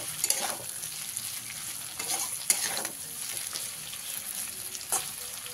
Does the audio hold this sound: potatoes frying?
yes